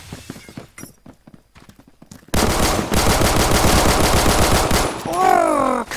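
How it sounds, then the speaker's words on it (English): Gunfire rattles in rapid bursts in the Roblox game Phantom Forces, then a dense, loud wash of breaking window glass crashes continuously for several seconds amid the shooting. "There is so much window breaking over here."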